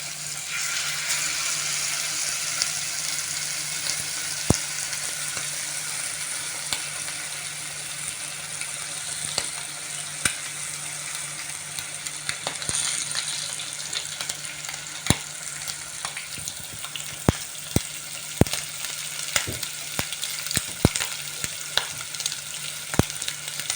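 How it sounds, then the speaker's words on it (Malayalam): Pieces of seer fish (kingfish) fry in hot coconut oil, giving a continuous close crackling sizzle with sharp pops and spits that grow more frequent toward the end. "ഇനി നമുക്കതിലേക്ക് മീൻ ഇട്ട് കൊടുക്കാം."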